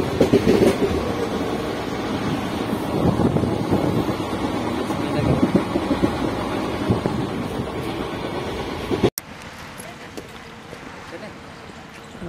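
Train ride from Bhopal to Vidisha in Madhya Pradesh, with a steady loud rumble of the moving carriage and talk over it; after about nine seconds the sound cuts to a quieter, thinner rolling noise.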